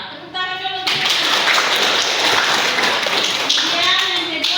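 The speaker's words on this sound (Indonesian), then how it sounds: "Iya, tepuk tangan dulu Firna." A classroom of Indonesian students bursts into a few seconds of steady group applause for a classmate's answer, with a voice talking briefly before and after.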